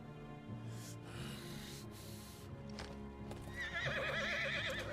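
Horse hooves clopping steadily in a video game, followed by a loud, wavering neigh near the end, with a low ambient musical drone underneath.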